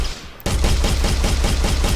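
Rapid automatic gunfire in an Unreal Engine 4 first-person shooter game, a loud, close burst of evenly spaced shots that starts abruptly after a brief quiet moment and continues without pause.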